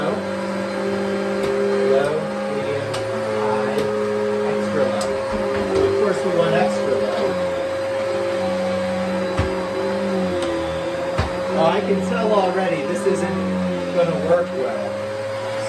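A Kenmore Elite 700 Series vacuum cleaner with a Pet PowerMate hums steadily throughout, its motor drone loud and continuous, with a person talking over it.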